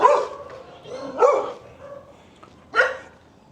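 Dogs kept in outdoor cages along a residential street in Quezon City, Philippines bark in three distinct bursts, moderately close, with quieter yips and whines between them.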